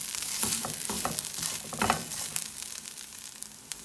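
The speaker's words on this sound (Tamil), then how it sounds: "இந்த தேங்காயை கொஞ்சோண்டு ஃப்ரை பண்ணால் போதும்" Grated coconut frying in a pan for coconut rice, a steady crackling sizzle with light intermittent stirring taps, moderately quiet and close.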